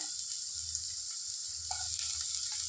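Finely chopped onions frying in a pan for a paneer capsicum dry sabji, a continuous gentle sizzle with faint low kitchen rumble, close and fairly quiet, no voices.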